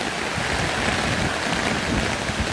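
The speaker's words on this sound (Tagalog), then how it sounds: "grabe kusuga sa ulan mga idol" Heavy downpour near a swollen creek, a dense, steady broadband hiss of rain pouring down without pause, loud and close throughout with no voices.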